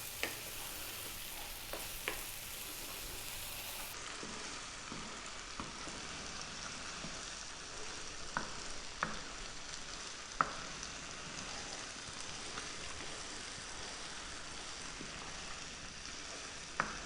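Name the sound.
dal (Indian lentils) frying and sizzling in a pan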